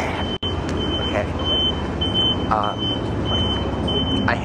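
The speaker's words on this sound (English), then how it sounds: "I hate that alarm. It always seems to happen whenever we walk by." A steady high electronic alarm tone sounds near a garage, mixed with outdoor traffic rumble, a few short chirps and people talking close by.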